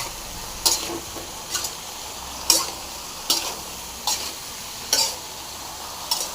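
Brinjal frying with chili powder and pepper is stirred in a pan, giving a soft sizzle under regular spatula scrapes and taps, about every second, close and without voices.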